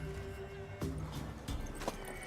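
Horse neighs and hoof steps in The Witcher 3, with a few sharp, fairly loud bursts over a constant game background, and short clops and a whinny standing out above the steady ambience.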